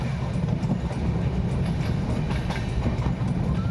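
Interior of the running Samaleswari Express passenger train, Howrah to Jagdalpur, a steady low rumble with faint rhythmic clicks of wheels on rail joints, continuous and fairly loud.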